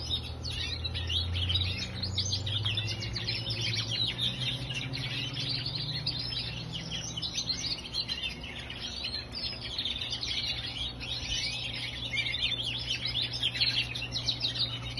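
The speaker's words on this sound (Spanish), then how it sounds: "Tengo ahí casi 70 pajaritos" A dense chorus of nearly 70 small caged birds chirps and tweets continuously, overlapping high calls filling the space, with a low hum underneath.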